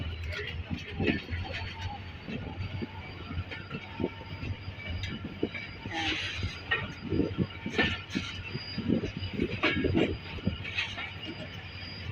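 An EMD diesel locomotive, HGMU-30-R-8217, hauls a train with a low rumbling chug and rattling clatter of rail cars, nearby and steady, while someone talks over it throughout.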